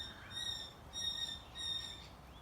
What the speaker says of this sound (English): And bird sounds. I hope you can hear them. Little flock up there.